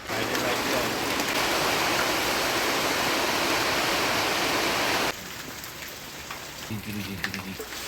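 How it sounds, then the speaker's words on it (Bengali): Heavy rain from a nighttime storm pours in a loud, steady roar, then drops off abruptly to quieter background with faint voices. "বৃষ্টিও চলে আসলো"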